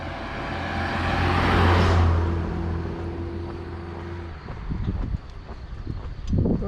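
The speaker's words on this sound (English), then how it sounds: "and there's a car." A car drives past on a road through the red-roofed village of Rgotina, its engine and tire noise swelling close and loud, then fading away into wind and rustling.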